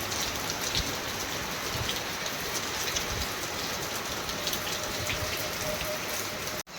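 Steady rain falls on a surface with a constant dense patter, continuing evenly until a brief cut near the end.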